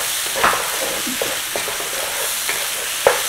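Onion paste of onions in oil with garam masala hitting a hot pan for chicken jalfrezi, a loud close sizzle broken by brief spatula scrapes and clacks, with no speech.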